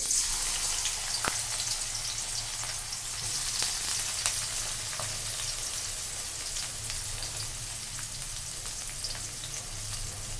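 Onion frying in oil for eggplant bhuna gives a steady, close sizzle that carries on alone throughout, with a few sharp crackles and pops scattered over it.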